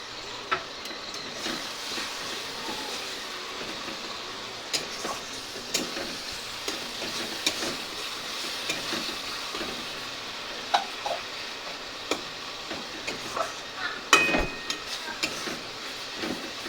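Chicken masala sautéing in a pan with a little water, a soft, steady low sizzle with scattered ticks and scrapes of stirring, fairly quiet and with no voices.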